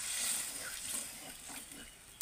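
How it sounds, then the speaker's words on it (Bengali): Water poured into a simmering potato-brinjal fish curry masala gives a soft, steady hiss and sizzle, fairly faint and close, ending with a small clink. "এবার আমি জল দিয়ে দেব, জলটা পরিমাণ মতোই দিতে হবে।"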